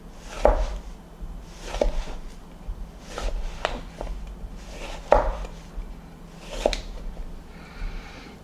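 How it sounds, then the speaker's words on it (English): A knife slices thin pieces of zucchini on a board, giving about half a dozen separate dull chopping knocks spaced a second or so apart, close and fairly quiet, with no talking. "I'm just going to use a zucchini at the end. And this is going to cut nice and thin."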